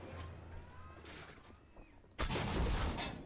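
Tank gunfire in the video game Armored Warfare: quiet low rumble and faint chirps, then a single loud, broad blast that rolls on for about a second.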